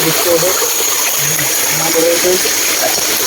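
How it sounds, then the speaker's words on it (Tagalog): Spring water gushes from the ground on a mountain and splashes steadily nearby, a constant rushing flow, with people's voices faintly heard under it. "Mga bukal po ito. Galing na po sa lupa."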